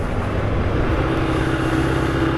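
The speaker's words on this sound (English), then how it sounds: "it's perfectly fine to drive your sports bike on a dirt road" A sports bike rides along a dirt road off-road, its engine giving a steady, loud broadband rumble with constant road and wind noise throughout, no talk.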